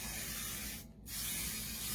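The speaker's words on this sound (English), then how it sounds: "Now I'm going to go ahead spray my hair with some hairspray" Hairspray hisses from an aerosol can onto curled hair in two long, close bursts split by a short pause.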